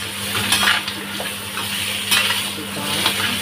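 Crab with scallions and ham is stirred in a sizzling frying pan, a steady fry hiss broken by repeated scraping strokes of a utensil against the pan, close and loud, with no talking.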